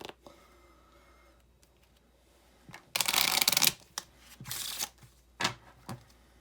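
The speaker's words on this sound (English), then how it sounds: "Shuffle your cards." Playing cards shuffled nearby: a loud riffling burst, then several shorter flutters and snaps after a quiet start.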